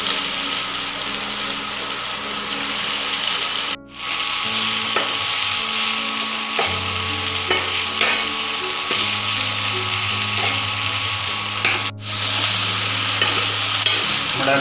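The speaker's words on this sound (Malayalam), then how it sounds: "പനീർ ചേർത്ത് മിക്സ് ചെയ്യുക" Fried paneer is tossed and mixed in a hot pan for a paneer ghee roast, a loud continuous sizzle with repeated scraping stirs and two brief pauses in the frying.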